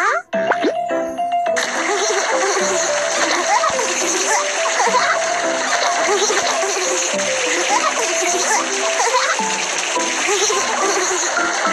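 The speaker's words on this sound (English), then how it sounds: "Let's apply some soap to wash JoJo cleaner" Cartoon bath-time water splashing as a baby is soaped and washed, continuous busy splatters and plops with bouncy cartoon effects over a bright background track.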